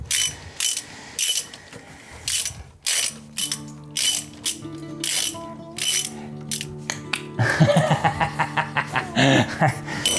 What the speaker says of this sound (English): can't find my Halford's ratchet, so I'm using this crappy old thing